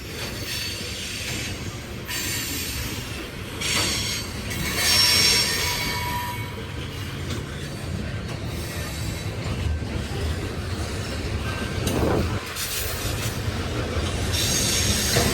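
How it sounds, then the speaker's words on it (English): A Union Pacific freight train of graffiti-covered tank cars, loaded with ethanol and flammable chemicals, rolls out of Hull Ave Yard while speeding up. Its wheels squeal loudly and continuously over a steady rumbling roll. "This train's speeding up."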